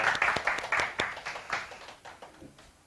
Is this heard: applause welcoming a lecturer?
yes